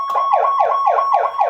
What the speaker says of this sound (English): And that's your whoop tone.